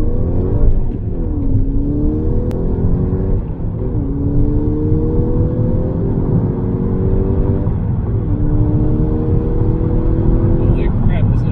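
A 2011 VW GTI engine accelerating on a test drive, loud and close from the cabin, revving up through rising gear pulls with brief drops at each shift, while someone talks.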